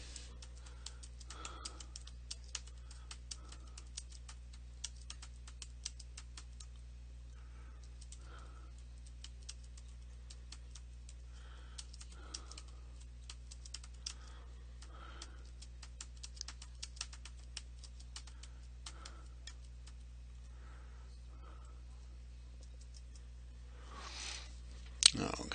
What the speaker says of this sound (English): Now I'm going to type some.